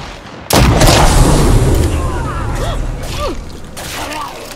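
Gunfire in State of Decay 2 breaks out suddenly, then becomes a loud, dense barrage with booms that fades slightly, with faint cries and voices underneath.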